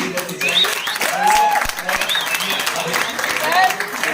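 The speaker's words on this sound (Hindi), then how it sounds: "एक बार उनके लिए ताली बजानी" An audience at a bodybuilding competition in Lucknow claps, a sustained burst of applause with whistles and cheers mixed in, heard under someone speaking over a PA.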